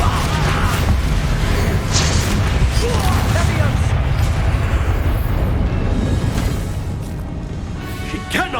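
Bombarda explosion spell in the Hogwarts Legacy game, a loud, dense rumbling blast with crackling debris that fills the whole stretch and eases slightly toward the end, with voices mixed in.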